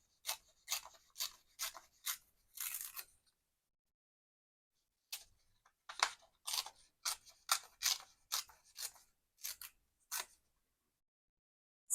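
Paper pieces torn by hand for a journal collage, a quick series of short dry rips in two bursts separated by a pause, close and fairly quiet with no voice.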